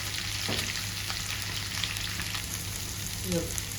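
Onions fry in a pan for Kerala-style egg roast, a continuous soft sizzle over a low steady hum, with a few light clinks near the end.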